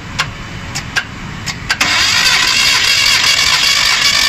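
A Proton Satria engine with a compression fault in cylinder one cranks in a quick series of uneven starter bursts, then catches into a loud, steady running roar close by.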